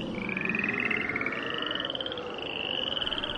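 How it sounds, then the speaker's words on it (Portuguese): Frogs croak in a dense, rhythmic chorus that runs continuously and fairly loudly, with no voices over it. "as rãs saíram das águas e cobriram todo o país"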